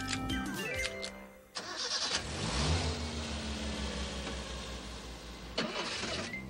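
A car engine cranks and catches, then revs up and settles into a steady, loud running drone nearby, with a brief sharp burst near the end; no one talks.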